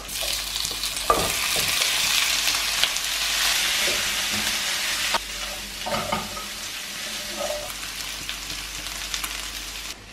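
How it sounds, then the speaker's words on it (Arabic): Ingredients and meat sauté in melted butter for Egyptian fatta with meat, a loud steady sizzle with occasional stirring scrapes, no talk. "فهحط دلوقتي كل المكونات دي تاخد تشويحه كده على السريع"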